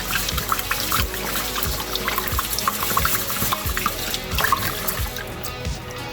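Rice is rinsed in water, the fourth or fifth wash before the water runs clear: continuous close sloshing, trickling and splashing with small irregular bursts and no talk.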